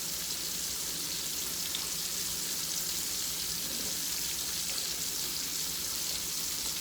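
Meat frying in grease sizzles steadily at a camp cookout, a dense, even hiss that fills the clip, with faint stirring scrapes and no talk.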